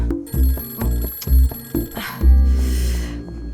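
A telephone rings in a home in a romantic drama: several short, bright bell bursts repeat in quick succession, loud and close, before a louder rustling clatter as it is answered.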